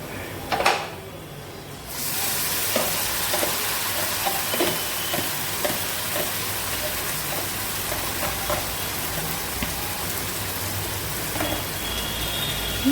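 Marinated mutton fries with browned onions in a hot pan, a dense steady sizzle broken by repeated scraping stirs and soft clanks, close and loud throughout with no talking.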